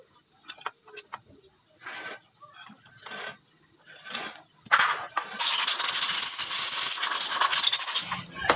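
Wrench tightening an 8mm cylinder head bolt on a Barako 175 motorcycle engine, starting as sparse metallic clicks and rubs, then becoming a louder sustained grinding, ratcheting noise near the end, close and without speech.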